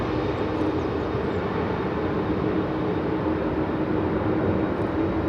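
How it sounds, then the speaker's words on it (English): A Ryanair Boeing 737 MAX 8-200 jet departs Manchester Airport for Milan, its engines a steady, broad roar that holds unchanged throughout, with no voices. "Ryanair Flight 3216 departing to Milan there. It's at max 8200."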